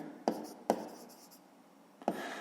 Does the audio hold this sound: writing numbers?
yes